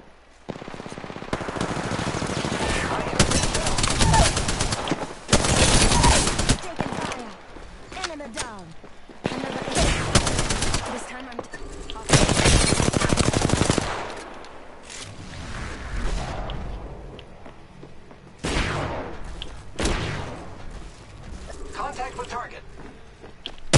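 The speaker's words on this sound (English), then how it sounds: "I am taking fire, friends." Repeated bursts of automatic gunfire and single shots in the battle royale game Apex Legends, loud and close in clustered volleys with brief pauses between them, while a player talks over the action.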